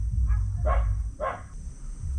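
A dog barks at people passing by in the provinces, two or three sharp woofs in quick succession over a low steady rumble of background noise.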